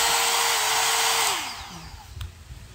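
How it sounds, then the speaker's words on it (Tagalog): A one-step hair dryer brush (combined brush, volumizer, styler and blower) runs with a loud, steady whirring roar that cuts off partway through and spins down to quiet, followed by faint handling noises. "In just 5 minutes, 6 minutes, my hair is dry."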